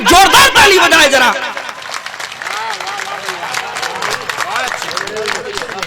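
Loud applause and cheering from a crowd at a village poetry gathering in Sandalpur, Dewas district, with a dense burst at first that settles into steady clapping and crowd chatter underneath.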